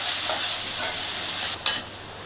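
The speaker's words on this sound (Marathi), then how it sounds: "टोमॅटो टाकायचा. चांगलं परतून घ्यायचं." Tomatoes stirred and sautéed in a hot pan with garlic-ginger paste for Mumbai-style ragda, a steady sizzle with a brief scrape of the spoon near the end, close and alone without talk.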